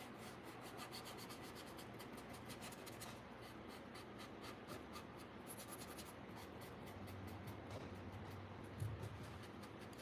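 A cloth scrubs around the crevices of painted furniture in a steady, quiet rubbing that continues for the whole stretch, with no talking.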